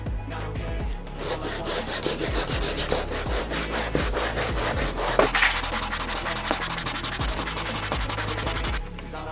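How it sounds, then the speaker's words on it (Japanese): Steady back-and-forth rasping as sandpaper on a homemade hinoki wood holder is scrubbed over rough-surfaced lumber, close and continuous with rhythmic strokes throughout. "こちらのペーパーホルダーで研磨がけをしていくと、このように表面が粗い木材も"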